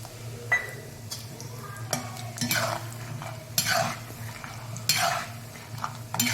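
Peanuts fry in oil for a fasting chivda, with a soft sizzle beneath repeated stirring scrapes and metal utensil clinks striking the pan at irregular intervals.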